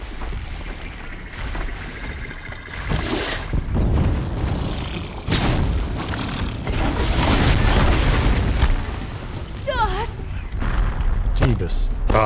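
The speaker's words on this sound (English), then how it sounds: "Oh, it was his explosion." Explosion in Horizon Zero Dawn, a loud booming blast that rolls into a sustained rumbling roar, followed by scattered crackles and a few sharp whistling tones near the end.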